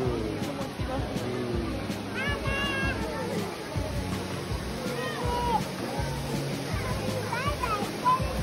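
Minoo waterfall in Minoo Park, Japan, in autumn: a steady, dense rush of falling water fills the scene, with brief chirps and faint voices surfacing now and then.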